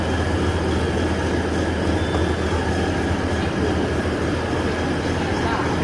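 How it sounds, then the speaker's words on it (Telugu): Steady loud rumble and hum inside a moving train, with a continuous low drone and faint rattling throughout. "ఇప్పుడు మనం ఈ ట్రైన్ లోపలికి ఎంట్రీ అవుతున్నాం"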